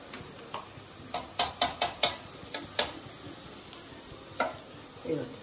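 Aloo rice being stirred and fried in a pan with ginger and garlic, a series of sharp scraping spoon strokes over a soft sizzle, fairly close with brief pauses between the strokes.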